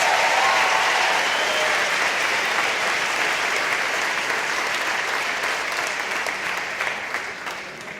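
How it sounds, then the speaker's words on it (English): An audience at a secondary school valedictory ceremony applauds after a performance, a full, sustained round of clapping that tapers off near the end. "Let's give them another round of applause"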